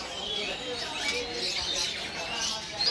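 Caged birds at the Pramuka bird market in Jakarta chirp and call in a dense, continuous wash of high twittering, with market hubbub underneath.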